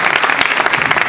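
Applause from an audience at the Digitale Leute conference, a thick continuous patter of many hands clapping nearby, holding at a steady level throughout the short burst.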